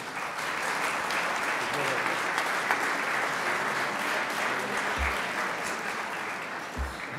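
Sustained applause from an audience at a tribute ceremony for Optimist Clubs, steady broadband clapping that holds for the full length at moderate level, with a couple of low thumps near the end.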